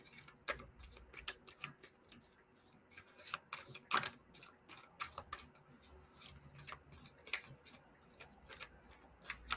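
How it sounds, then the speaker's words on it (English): Tarot cards are shuffled softly by hand, giving a quiet, irregular run of small clicks and flicks over several seconds, close but faint, with no talk. "I'm just shuffling these cards."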